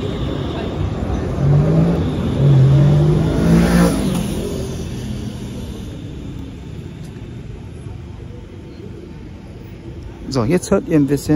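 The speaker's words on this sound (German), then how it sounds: "Autolärm, also Autoverkehr." Outdoor road traffic: a vehicle swells past and fades into a steady background rumble, with someone speaking German at the start and again near the end.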